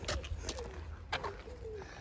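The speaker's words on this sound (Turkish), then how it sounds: "Bak kuş ötüyor." A bird calls softly a few times, with short low-pitched coos against a faint outdoor background in a country park in Scotland.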